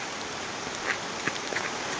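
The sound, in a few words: heavy rain falling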